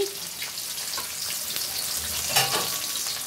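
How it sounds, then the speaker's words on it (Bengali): Fish and potatoes sizzle in hot oil in a home kitchen, a steady loud crackling hiss with occasional stirring and spatter bursts, close up and with no talking. "আমি একটা মাছ ভাজি করতেছি আর কয়েকটা আলু ভাজি করতেছি"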